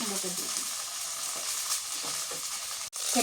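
Onion paste sizzles and fries in a pan while fish curry is cooked, a steady dense crackle and hiss that runs throughout, close and strong, with a brief dropout near the end.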